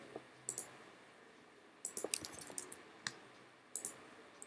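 Computer mouse clicks land on an edit button, soft close clicks in small scattered bursts separated by quiet gaps.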